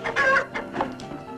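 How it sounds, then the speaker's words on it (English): A chicken clucks in a short burst of several close, fairly loud calls with no talk over them. "Go on in, chicken."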